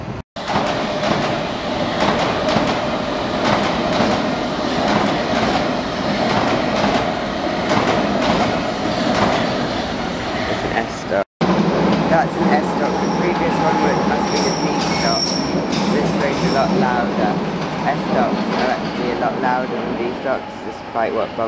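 Train running steadily past at close range near Victoria Coach Station, a loud continuous rumble and rattle of rail cars that keeps going through a brief cut, with a voice talking over it.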